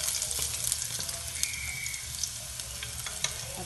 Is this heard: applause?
no